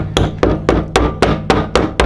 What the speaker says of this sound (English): that's not a very good screwdriver for using as a hammer